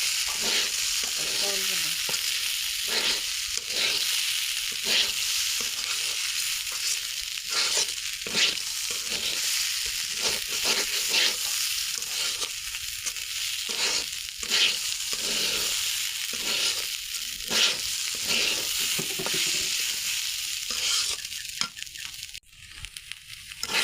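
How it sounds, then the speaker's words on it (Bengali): Rice is fried in a pan for chickpea biryani under a constant close sizzle, punctuated by repeated scraping strokes of a spoon as it is stirred at a steady, irregular pace. "এই যে চাউলটা একটু ভাজা ভাজা করে নিব, তাহলে যা টেস্টটা খুব ভালো হয়"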